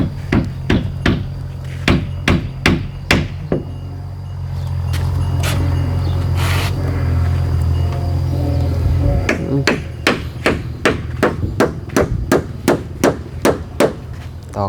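Nails hammered while roofing a house in Thailand: clusters of sharp, loud, evenly spaced hammer blows near at hand, broken in the middle by a steady running motor hum, with no speech.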